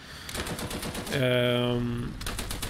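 Machine gun fire from a Stridsvagn 103 tank in a video game, a rapid sustained burst with ringing tonal bands lasting about a second, set among ongoing battle noise and other shots.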